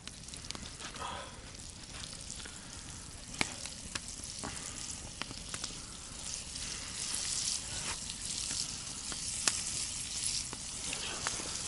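Freshly caught burbot fries in a pan at a wild taiga beach, giving a steady, dense sizzle with scattered sharp pops and crackles throughout, loud and close with no talking.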